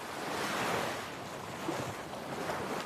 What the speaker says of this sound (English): hear the ocean waves dancing with the shore